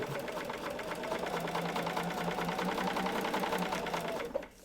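A sewing machine runs steadily, stitching across a paper-pieced quilt block with a fast, even mechanical chatter that holds without pause before stopping abruptly at the end.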